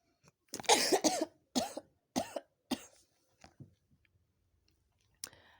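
A run of coughs, one heavy burst followed by several shorter ones spaced about half a second apart, fading off, then a final small cough.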